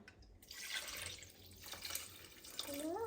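Sauce liquid pours from a glass into a pot with a steady, faint, close splashing trickle and no talking.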